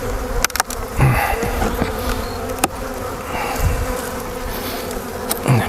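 A loud, close swarm of honey bees buzzing continuously around a hive frame, with individual insects droning past and occasional bumps and handling noises.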